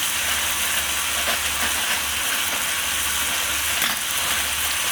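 A pot of something melting for keto freezer meal prep sizzles and hisses steadily and fairly loud, with a constant broadband frying texture and a low steady hum underneath, no talk.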